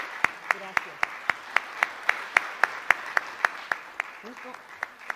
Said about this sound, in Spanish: merece un aplauso muy fuerte